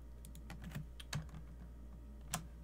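A computer keyboard being typed on in short bursts of clicky keystrokes, with a few louder taps standing out. The sound is close but faint over a steady low hum, with no one speaking.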